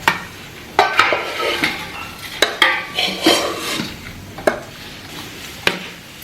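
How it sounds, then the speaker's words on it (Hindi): A roasted sweet mixture is scraped out of a metal pan into a wide plate in a home kitchen, with sharp spoon-on-metal knocks at irregular intervals between scraping and stirring, close and fairly loud. "अब मैं इसे परात में निकाल रही हूँ"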